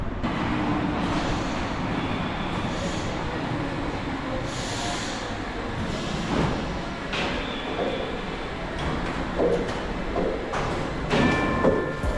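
Elevated metro train passing through a Paris neighborhood, a steady rumble and clatter of wheels on track with brief squeals, moderately loud and continuous.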